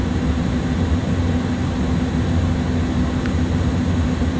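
Airbus A300-600 engines in Microsoft Flight Simulator hum and whine steadily while taxiing at low throttle, a loud, unbroken drone with no change across the stretch.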